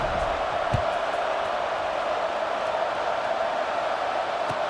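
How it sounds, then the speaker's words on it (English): A football stadium crowd hums after a touchdown, a steady broad roar held at an even level throughout, with a couple of faint thumps. "this crowd is buzzing after that last score"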